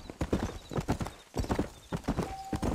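Horse hooves clip-clop in Red Dead Redemption on Nintendo Switch, a steady run of hoof beats close by with a horse whinnying, no talk over it.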